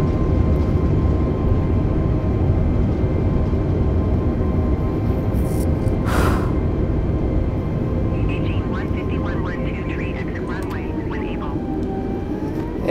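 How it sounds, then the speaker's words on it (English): An Airbus A320neo airliner applies reverse thrust after landing in Microsoft Flight Simulator, producing a loud, steady broadband engine roar that holds throughout, with faint tonal cockpit sounds near the end. "Reverse thrust."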